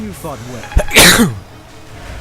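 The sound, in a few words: sneeze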